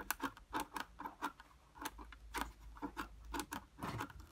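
Plastic buttons on a Vax 6131 wet and dry vacuum click repeatedly in quick, uneven succession, producing sharp, close ticking snaps with no voices.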